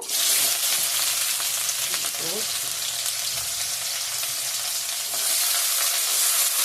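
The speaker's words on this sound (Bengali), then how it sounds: "রসুন কুচানো হালকা লাল লাল হয়ে গেছে রসুন কুচিটা দিয়ে দেবো" Chopped garlic frying in hot oil sizzles loudly and continuously, with a few soft stirring scrapes partway through and no speech.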